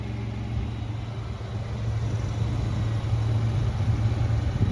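A Ford F-150 crew cab work truck idles with a steady, low rumbling hum that stays close and constant, swelling slightly toward the end.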